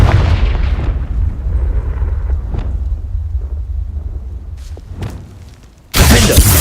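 Confringo blasting spell in Hogwarts Legacy, a deep booming explosion that rumbles and decays over several seconds, followed by a sudden loud burst at the end.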